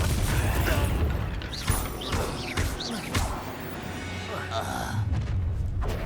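A Confringo blasting spell erupts in Hogwarts Legacy combat, a dense, continuous rumble of booming impacts and crashes layered with spell effects, loud and close throughout, while voices speak over the fighting.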